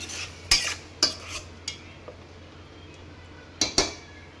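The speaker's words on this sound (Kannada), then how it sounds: "ಇದಕ್ಕೆ ಒಂದು ಸ್ವಲ್ಪನೇ ಸ್ವಲ್ಪ ನೀರನ್ನ ಹಾಕಿ ನೀರನ್ನ ಹಾಕ್ಬಿಟ್ಟು ಈಗ ಮಿಕ್ಸ್ ಮಾಡ್ಕೊಳ್ಳಿ ಒಮ್ಮೆ" Paneer pepper dry stirred in a pan over a low flame: a handful of sharp metal spoon scrapes and clinks against the pan at irregular intervals, with quiet gaps between them.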